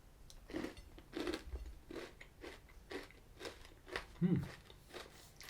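Crunchy bites into Cadbury Crunchie Rocks, honeycomb chocolate clusters, with a series of crisp crackling crunches and chewing repeating steadily throughout, close up and fairly quiet.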